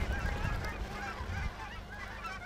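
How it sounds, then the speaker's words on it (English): Several geese honk repeatedly overhead, a chorus of nasal calls at moderate distance over a low rumbling background. "There's a bunch of geese passing overhead."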